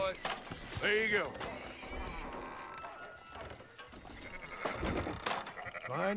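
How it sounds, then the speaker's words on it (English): Sheep bleat in the video game Red Dead Redemption 2, a few short wavering cries near the start and again toward the end, heard over low ambient game sound. "Fine sheep."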